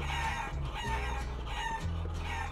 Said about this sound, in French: Oh, les poulets m'attaquent